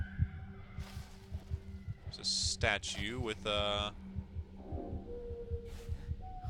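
Heartbeat sound in the horror game Among the Sleep, a steady low rhythmic thumping running under someone talking, with breathy effects and tones layered on top.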